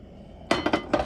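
Metal pans clank together several times in quick succession, close and bright, while coffee is made the old-fashioned way at a bunkhouse during a solo motorcycle camping trip.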